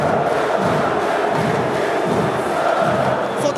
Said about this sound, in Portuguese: A reação da torcida do Flamengo foi imediata.